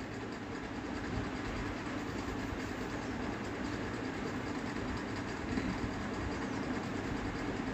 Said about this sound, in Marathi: पूर्ण राऊंडला आपल्याला अशी गोल गोल शिलाई मारून घ्यायची.